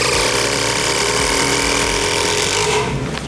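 Milwaukee 2nd gen M18 FQID2 cordless impact driver driving a screw, a loud, steady whirring drone held close that runs continuously before cutting off near the end.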